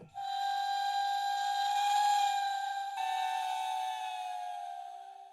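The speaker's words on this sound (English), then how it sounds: "They all sound like trains." A Maleventum 2 synthesizer sounds a bright, whistle-like sustained tone resembling a steam train whistle, sliding slightly downward with a brief break partway, then fading out near the end.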